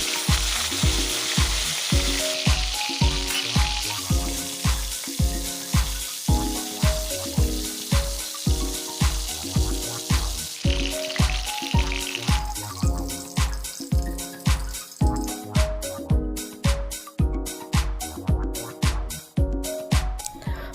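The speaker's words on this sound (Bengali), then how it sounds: "আমি মাছের মাথাগুলি লাল করে ভেজে নিচ্ছি।" Fish heads sizzle in hot oil in a wok, a loud continuous frying crackle broken by regular rhythmic stirring scrapes throughout, with no talking.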